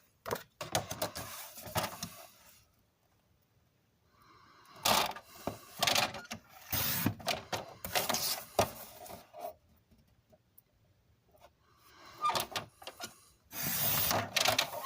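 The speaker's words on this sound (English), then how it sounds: "I believe we're done with the trimmer now" Paper trimmer blade sliding through card stock, several separate bursts of scraping, rasping cuts with quiet pauses between them, close and moderately loud.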